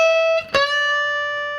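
Electric guitar playing a short minor pentatonic blues lick: one clean note, a quick pluck, then a sustained bent note that rings out alone and fades slightly.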